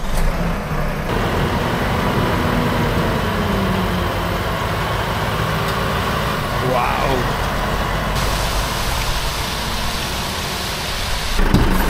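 A Volvo FH16 780 truck with a 17-litre engine rolls past with a loud, steady engine drone through the whole stretch, a short exclaimed voice cutting in near the end.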